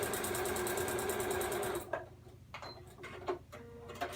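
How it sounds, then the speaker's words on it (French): A domestic sewing machine stitches quilt binding strips in a steady, loud mechanical whirr for almost two seconds, then stops, leaving a few soft clicks and handling noises. "Donc voilà, je couds tout simplement."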